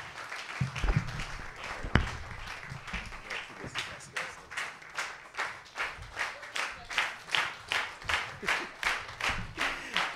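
A church congregation claps for the pastor, with loose applause at first that settles into a steady rhythmic beat of hand claps, close and fairly loud, sustained for about ten seconds.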